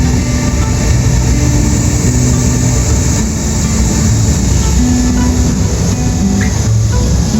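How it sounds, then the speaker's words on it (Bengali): A Chinese high-speed bullet train pulls into a station with a loud, steady low rumble and hum of engine and wheels that holds across the whole stretch, with no voices. "আমি এখন যেই ট্রেনে জার্নি করব ওইটা অলরেডি চলে এসেছে।"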